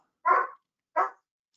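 Several rescue dogs bark indoors in two distinct bursts, with a short yip at the end. The barks are fairly close and clear, and no talking can be heard.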